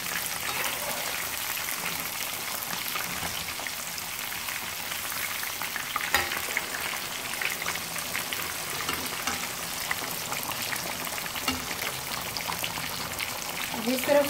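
Rohu fish pieces fry in oil for a spicy Lahori fish fry, giving a continuous, moderately quiet crackling sizzle with occasional small pops throughout.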